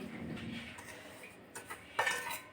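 A utensil clinks and scrapes against a bowl as flour and chopped onion are added to a mashed banana flower mixture, a few light taps and a sharper clink near the end, faint and close.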